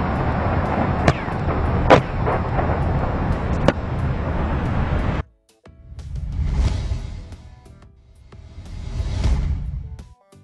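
A powerful non-nuclear bomb blast effect: a loud, dense roar broken by sharp cracks, then a sudden cut followed by two deep, swelling rumbling explosions that rise and fade one after another.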